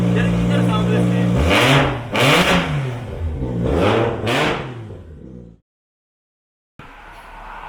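A Nissan R31 Skyline drift car from the 2019 Formula Drift Japan field revs hard in a series of loud, rising and falling engine blips, then cuts abruptly to silence before faint background sound returns; a voice is briefly heard.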